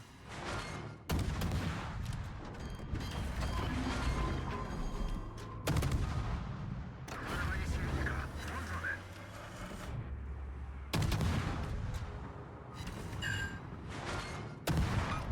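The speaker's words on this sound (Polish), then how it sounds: "O, strzela do mnie." Tank cannon and gunfire in a World of Tanks-style battle game boom in several heavy blasts between stretches of rumbling combat noise, with a player talking over much of it.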